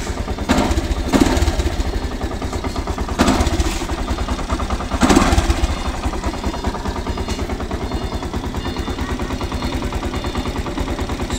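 A Yamaha YTX 125 motorcycle engine idles with a steady close putter and rises in a few brief revs, loud and alone without talk.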